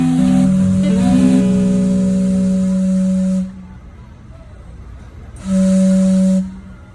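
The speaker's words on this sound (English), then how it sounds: "the steam clock, which puffs steam-powered chimes every 15 minutes" Vancouver's steam clock sounds its steam-powered chimes outdoors: loud sustained steam-whistle tones over hissing steam, a long multi-note blast followed by a pause and then a shorter second blast.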